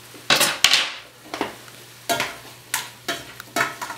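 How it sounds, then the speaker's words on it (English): Chicken tortilla soup is stirred in a pot, a spoon scraping and clinking against the metal in a series of sharp, uneven strokes with short pauses between them, near and alone. "Give it a good stir."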